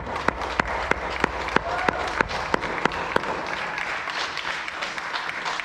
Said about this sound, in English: Let's have a round of applause for all.